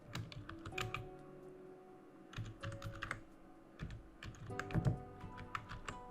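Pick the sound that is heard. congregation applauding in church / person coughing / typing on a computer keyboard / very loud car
typing on a computer keyboard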